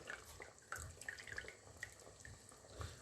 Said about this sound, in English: let us just squeeze the excess of the water